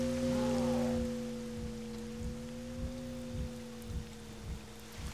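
Steady rain falls in a Pripyat zone video game, a soft constant wash with scattered drops tapping nearby, under a low sustained hum and a brief tonal sweep at the start, no talking.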